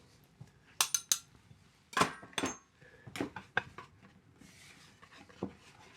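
Quiche batter with flour being mixed in a bowl, a series of sharp clinks and scrapes of utensil against the bowl in uneven bursts, close and fairly quiet with no talk.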